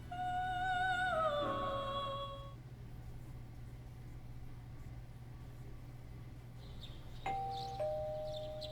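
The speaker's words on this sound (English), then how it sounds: "My car. It's got a doorbell." A two-tone ding-dong doorbell chime in Persona 4 Golden, clear and upfront, ringing once at the start and again near the end over a low steady engine-like hum, with no talk.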